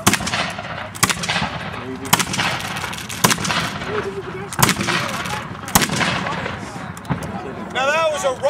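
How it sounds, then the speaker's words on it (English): Reenactors fire War of 1812 flintlock muskets in a rolling volley at a Havre de Grace, Maryland demonstration, sharp loud cracks bursting about once per second from right to left with rumbling smoke-filled echoes between shots and shouting in the background. "Now that was a rolling fire from right to left."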